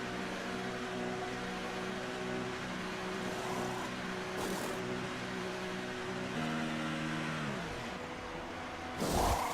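Formula One car in the F1 2018 video game entering the pits, a steady engine drone held at pit-lane speed, then dropping in pitch as it slows, with brief bursts of noise.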